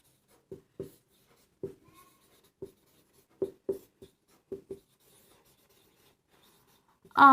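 Marker or chalk strokes on a classroom board during a numerical lesson, about a dozen short scratchy bursts in irregular clusters, close and fairly clear, ending with a brief louder sound.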